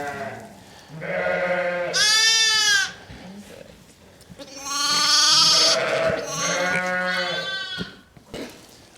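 Ewes bleating inside a lambing shed during the lambing season, several loud, close, wavering calls in overlapping bursts, one long and high, with quieter bleats between and no talk.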